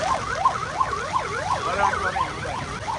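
A police car siren wails continuously, its pitch sweeping up and down in a steady rapid cycle, fairly loud with background street noise, at a flooded fairground in Jamnagar after heavy rain.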